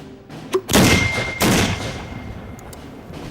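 A mortar shell fired and then detonating: two heavy, booming blasts about a second apart with a long rumbling decay, loud and close, followed by a few faint clicks.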